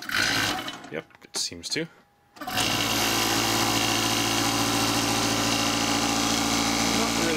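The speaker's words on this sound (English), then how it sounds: "Let's see if this compressor, 240 volt compressor, will run on 120 volts." A 240-volt air compressor, run on 120 volts, starts up after a brief spoken remark and settles into a steady, loud motor drone with a buzzing mechanical hum that continues to the end.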